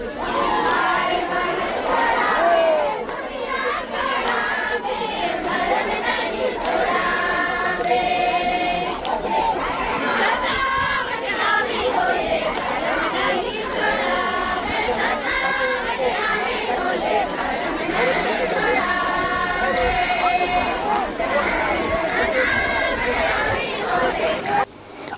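A large, agitated crowd of protesters blocking National Highway 43 near Loro Ghat, a dense, continuous babble of many voices with occasional shouts rising above the steady hubbub.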